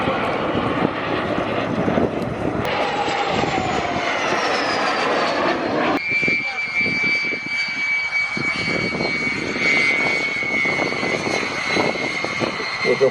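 Fixed-wing airplane at an air show, its engine roaring loud and steady throughout with a rising whine, then a sharp shift in pitch midway as the aircraft turns near the runway.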